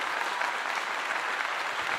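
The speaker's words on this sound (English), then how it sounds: "Let me give her a clap." Dense hand clapping from a group, a continuous brisk patter of applause at steady loudness for about two seconds with no talk over it.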